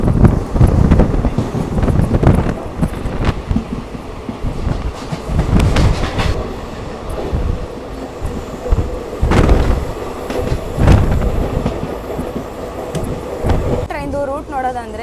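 A Rajya Rani express train with ICF coaches runs on the Bangalore–Mysore line, giving loud, steady rolling noise heard from on board with rhythmic clickety-clack and wind buffeting. The clatter swells and fades in bursts, and a voice comes in near the end.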